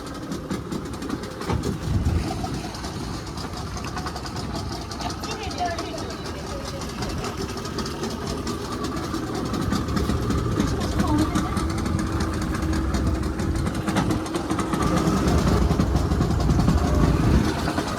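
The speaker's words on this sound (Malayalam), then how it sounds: "ഇതാണ് ഗ്ലാസ് ബോട്ട് റൈഡ്." A glass-bottom boat's engine runs steadily during a ride off Bali toward Turtle Land, a continuous low rumble and vibration that grows slightly louder toward the end, with people talking over it.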